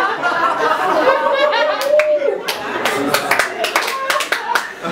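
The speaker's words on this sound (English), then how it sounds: "I don't know why you would applaud that." Comedy club crowd clapping and chuckling in response to a stand-up comedian's joke, a loose burst of applause mixed with laughter, with a voice talking over it.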